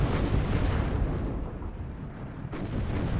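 Marder infantry fighting vehicle cannons firing in the real-time strategy game WARNO, a dense, continuous roar of booming shots and explosions that stays loud throughout.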